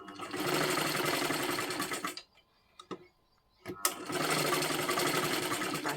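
A sewing machine runs a double line of stitching along silky blouse piping, two steady bursts of rapid whirring separated by a brief pause with a few clicks, close and loud.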